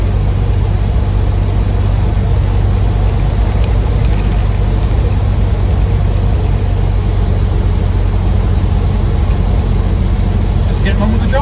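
A restored 1968 Morris Traveller trundles along under 50 mph, heard from inside as a loud, steady engine drone and road rumble that continues without a break, with a voice talking over it.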